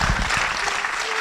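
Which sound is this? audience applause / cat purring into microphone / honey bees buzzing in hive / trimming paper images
audience applause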